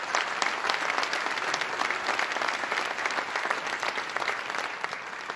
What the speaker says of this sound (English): One more round of applause to the National Guard.